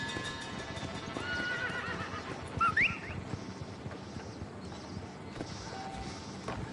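Horse in the video game Red Dead Redemption, steady clip-clop of hooves under a brief sharp whinny midway, close and moderately loud with faint game ambience.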